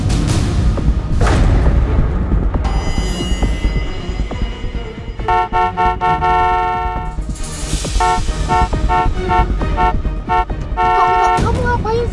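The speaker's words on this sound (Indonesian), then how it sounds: "Udah jangan klakson, nanti orang depan ngira kamu ngapa-ngapain" A car horn honks in short and sustained blasts through a dramatic argument inside a vehicle, sounding close and loud, with tense voices and background music running under and between the honks.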